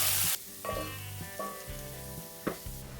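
Potatoes frying in a pan for potato rice, stirred with a spoon: continuous close sizzling with a few soft scraping strokes across the pan.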